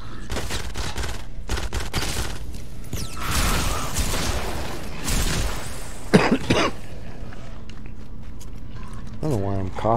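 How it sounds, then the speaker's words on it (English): A person coughs repeatedly in rough, harsh bursts amid video game gunfire and effects, with the coughing loud and close and a brief throat clear among the fits. "I don't know why I'm coughing so much."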